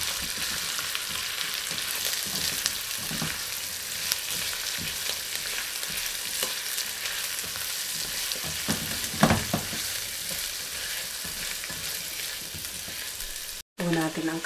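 Onion sizzles steadily as it is sautéed in a pan for a creamy shrimp dish, a continuous close hiss with occasional stirring scrapes and a brief dropout near the end.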